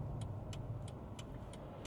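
Cars roll past on the road beside a parked 2017 Mercedes E200 Coupe, a low steady traffic rumble under a regular ticking click.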